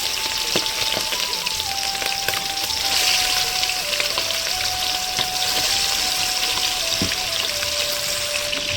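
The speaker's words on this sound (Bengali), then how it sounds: "তা দেখো বন্ধুরা মাংসগুলো আমি এরকম লাল করে ভেজে নেবো একবারে" Meat seasoned with salt and turmeric fries in a pan for biryani, giving a steady, dense, close sizzle that holds evenly throughout with faint occasional scrapes and a thin underlying tone, and no voices.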